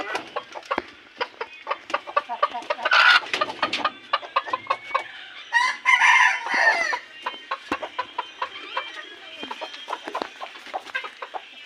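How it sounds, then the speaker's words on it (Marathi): Country chickens cluck busily and close by in a cage in quick, repeated bursts, while a rooster crows loudly twice over the flock's chatter. "तुम्हाला दाखवते बघा कोंबडे बघा कसे आहेत"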